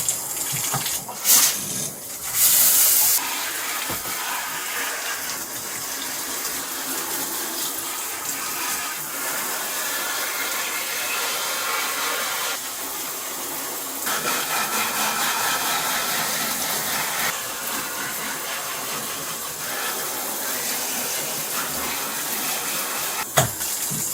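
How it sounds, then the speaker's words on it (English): A shower head sprays water steadily over an infested houseplant indoors, a continuous loud hiss with a few brief louder bursts near the start. "I'm going to hose her down with the shower head"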